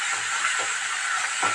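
Betel, tulsi and ajwain leaves with chillies sauté in a hot pan, a steady close hiss of frying with soft, regular knocks of stirring beneath it.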